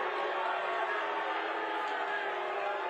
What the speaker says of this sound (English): they're booing him hard as fuck